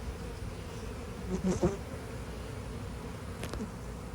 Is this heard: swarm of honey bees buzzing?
yes